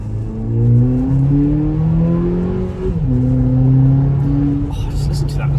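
A 2018 VW Polo GTI engine revs up and down close by in several loud, rising and falling sweeps, with a steady rumble underneath.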